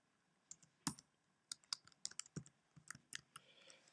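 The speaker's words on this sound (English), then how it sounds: "I'm going to type in my name" Quiet typing on a computer keyboard, with irregular bursts of crisp key clicks that speed up into a quicker run toward the end.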